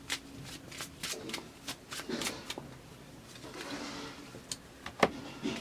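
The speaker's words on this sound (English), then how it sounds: "I would like to draw one more card, maybe two more cards for you." Tarot cards being drawn and shuffled, a run of crisp papery flicks and slides at close range with brief pauses between them, ending on one sharper snap.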